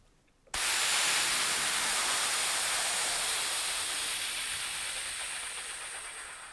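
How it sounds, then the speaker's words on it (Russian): An active, intense exhalation during a saxophone breathing exercise: one long, forceful, hissing rush of air starts abruptly and holds steady for about six seconds, fading slightly toward the end, close and loud with no speech. "И активный, и интенсивный выдох."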